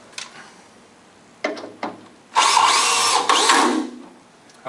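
A power screw gun drives a screw into a Russell Stover combo candy panel, giving a loud, steady whirring burst of about two seconds after a few short clicks and taps.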